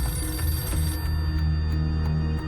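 A telephone ringing on and on without being answered, a loud, steady electronic ring that fills the space with no voices over it.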